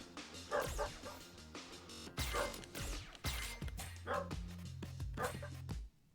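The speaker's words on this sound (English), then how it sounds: "Dog noises." A dog barks and yips repeatedly at close range, loud bursts over the steady background sound of a Street Fighter 6 online match.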